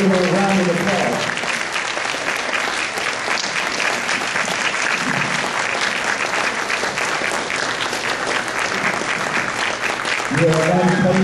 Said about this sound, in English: Just stand and give her a round of applause.